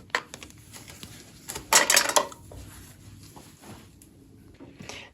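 A small lid from a miniature cookware set is handled, giving a quick burst of metallic clinks and clatter at mid-clip, with lighter taps before and after in a quiet room.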